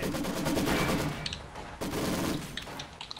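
Rapid bursts of machine-gun fire rattle loudly in two long volleys separated by a short pause, with scattered single shots trailing at the end, in the video game Company of Heroes 2.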